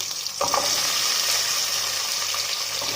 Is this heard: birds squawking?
no